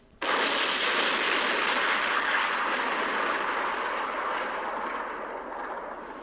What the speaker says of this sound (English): Then there was a loud explosion.